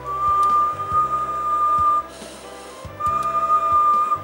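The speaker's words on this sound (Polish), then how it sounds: "Przy gwizdnięciu w mikrofon" Whistling into the microphone of an Alinco DX70 radio transceiver on test, heard as a steady, pure tone held for about two seconds, briefly cut off, then resumed over a faint background hum.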